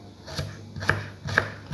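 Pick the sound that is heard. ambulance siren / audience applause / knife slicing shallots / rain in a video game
knife slicing shallots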